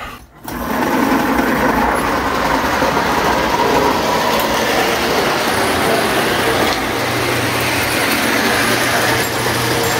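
Lionel postwar toy train running on a ceiling shelf layout past a crossing gate, a loud continuous mechanical whir and rumble of motor and wheels, close and unbroken after a brief start.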